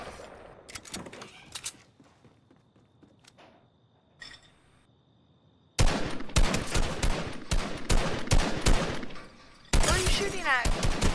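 Video game gunfire comes in rapid bursts, first a few scattered shots under quiet talk, then dense, loud sustained volleys through the second half.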